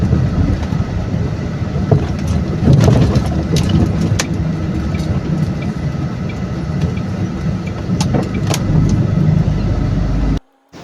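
Road traffic rolls through Lemery, Batangas: several cars and engines rumble by close and loud in a steady stream, with occasional clunks and no talk, then the sound cuts off abruptly.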